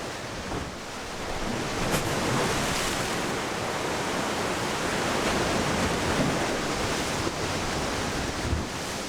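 Ocean waves break steadily on a Galapagos shoreline, a continuous loud roar of surf and churning water with gusty wind noise, no voices over it.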